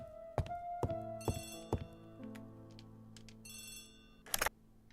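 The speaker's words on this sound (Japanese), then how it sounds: "電話が来てます。" A telephone rings in the Agatha Christie ABC Murders video game: a few sharp, bright ring bursts over a quiet game background, loud and close, with no talk.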